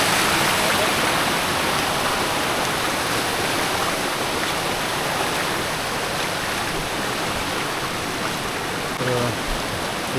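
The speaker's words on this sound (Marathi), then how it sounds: "मस्त पाणी आलं नदीला आता," Fresh water runs through a small river in a constant, full hiss of flow, near and unbroken, with a faint brief knock late on.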